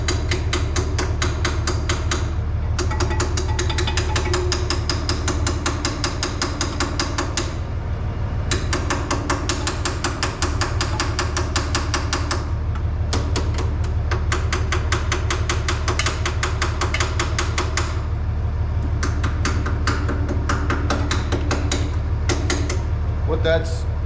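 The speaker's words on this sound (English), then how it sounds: "I'm gonna try to tap that fuel pump with a hammer" Repeated metal tapping from a small hammer striking the fuel pump of an old, long-unused Bobcat skid steer, a steady run of sharp clicks over a low continuous hum, with a person talking throughout.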